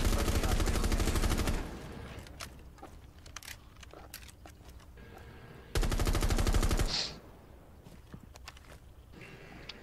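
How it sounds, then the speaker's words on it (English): Automatic gunfire in the Rainbow Six Siege video game, two loud sustained bursts of rapid fire about four seconds apart, with footsteps and scattered clatter between them. "He shot me through the wall"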